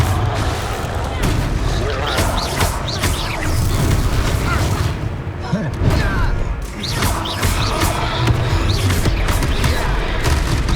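A loud, continuous barrage of Confringo fire-spell blasts and crashing combat noise in the game Hogwarts Legacy, with repeated booms and no speech.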